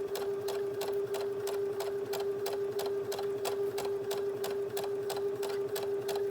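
A sewing machine stitching shirring in the round runs at a steady, rapid mechanical rhythm with regular ticking pulses and a constant whine, close and continuous throughout.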